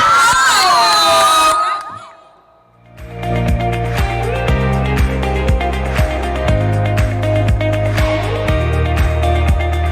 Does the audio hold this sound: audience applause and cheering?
yes